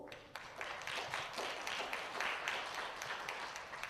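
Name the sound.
audience round of applause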